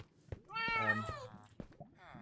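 A cat meows in the Minecraft video game, one drawn-out harmonic call near the start followed by shorter quieter mews, close and clear with faint game sounds around it.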